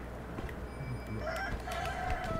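A rooster crows in the Sekiro video game: a drawn-out, mid-pitched call rising over a steady hum of game ambience, moderately loud with no talk.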